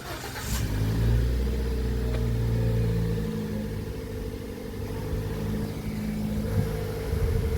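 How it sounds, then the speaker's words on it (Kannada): Car engine idling and revving as a vehicle is driven out through a gate, a steady mid-pitched hum swelling and easing, fairly close with no talk. "ಹಾಂ, ಬನ್ನಿ ಗೇಟ್ ತಗೊಂಡು ಹೋಗೋಣ. ನಮ್ಮರು ಗಾಡಿ ತೆಗಿತಾ ಇದ್ದಾರೆ."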